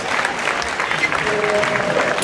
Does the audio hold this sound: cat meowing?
no